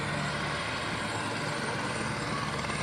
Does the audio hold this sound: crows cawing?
no